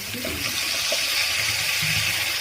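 Water poured into a pan of fish curry made with cauliflower and tangra fish, a steady close hiss and splash running throughout, with faint kitchen clatter underneath.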